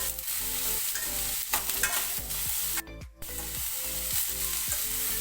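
Bitter gourd sautéing in oil in a pan, with a steady bright sizzle and regular scraping stir strokes about twice a second, close and alone.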